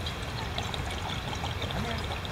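River water pours steadily into a pot, a continuous close splashing trickle that runs without pause through the short stretch.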